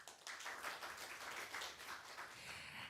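An audience at an international symposium ceremony gives warm applause after a welcome address, a faint, steady patter of many hands clapping at a distance.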